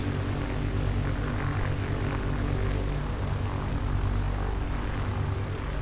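A Mooney Bravo propeller airplane taxis into its parking spot at Republic Airport, its engine droning steadily and loudly throughout with a constant low rumble and no breaks.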